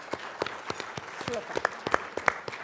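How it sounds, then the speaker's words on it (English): An audience applauding at a hotel event, scattered claps rising into a steady patter, with a brief spoken word partway through. "let's give them a round of applause"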